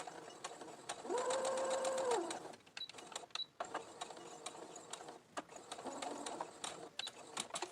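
Domestic sewing machine stitching a fabric face mask, a short steady whir of running stitches followed by clicks and handling of the fabric and presser foot, close and moderately quiet.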